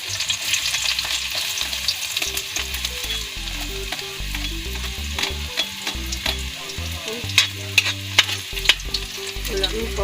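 Garlic sizzling steadily in a frying pan, a dense continuous fry with occasional stirring scrapes and clinks, close and fairly loud, no talk.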